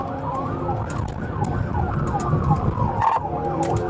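A wailing police siren sweeps up and down continuously over road and engine noise during a pursuit of a black Dodge Journey, with a few sharp yelps near the end.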